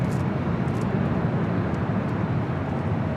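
An Airbus A350 takes off from the north side at LAX, its engines producing a loud, steady, broadband roar from a distance with no voices.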